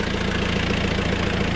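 A small farm tractor, a 434 with a plough attached, idles close by in a steady, even, low mechanical throb with a faint knock, with no talk over it.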